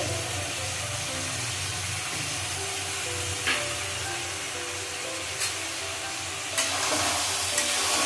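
Ridge gourd sautéed with turmeric in a hot pan, a continuous even sizzle with a few sharp stirring scrapes, close, with no speech.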